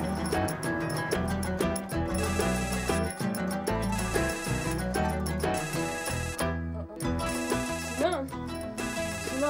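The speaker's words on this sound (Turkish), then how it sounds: "Sinan telefon çalıyor." A phone ringtone plays loudly and continuously over a dense musical backing, with repeated melodic chimes and voices talking underneath.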